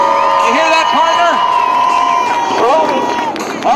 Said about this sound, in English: Make some noise so he can hear you applauding.